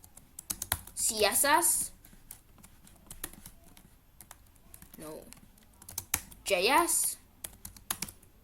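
Computer keyboard typing code in short bursts of rapid clicking, moderately close, separated by pauses, with a person talking in between.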